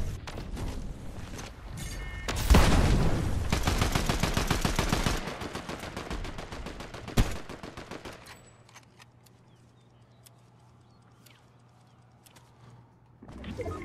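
Gunfire in the Fortnite video game, a loud crack followed by rapid repeated shots, one more sharp shot, then a low steady hum with faint game ambience.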